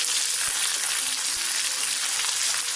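Korean-style chilli beef with gochujang stir-frying in a wok, a loud continuous close sizzle with a couple of faint knocks from the utensil, no talking.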